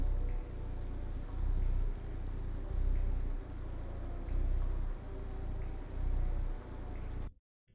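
A cat in the video game Stray purrs up close in slow rhythmic swells, each breath cycle rising and falling, before cutting off abruptly to silence.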